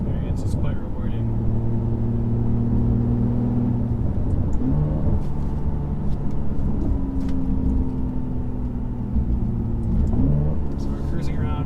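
A Ferrari 612 Scaglietti with a V12 cruises along roads in California's Central Valley, its engine a continuous loud, low drone heard from inside, rising and shifting in pitch around the fourth and tenth seconds.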